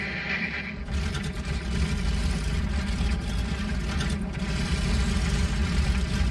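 Twin engines of a Wellington bomber starting in the IL-2 Cliffs of Dover flight simulator: a brief quiet lead-in, then a steady, loud, rumbling propeller drone that settles into a continuous idle.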